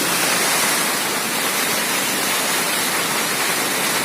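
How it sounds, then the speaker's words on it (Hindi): A waterfall at Amarkantak pours in a steady, loud, dense roar of rushing water, continuous and unbroken with no voices. "ये प्यारा झरना जो आप मेरे पीछे देख पा रहे हैं बहुत ही मनमोहक और ऊर्जादायक है"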